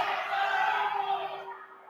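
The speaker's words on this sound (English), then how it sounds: "Crowd very vocal." A crowd at a women's rugby match between university sides cheers and shouts together in a brief, fairly faint burst that fades out toward the end.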